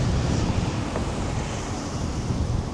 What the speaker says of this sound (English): Ah, and a lot of wind.